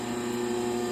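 AMH Blue-Boy exhaust pipe bender running in a shop, set up for swaging pipe: a steady electric motor hum with a constant tonal drone, even and unbroken, close to the microphone.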